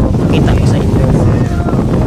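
Strong wind by the sea buffets the microphone with a loud, constant low rumble, gusting throughout the short clip.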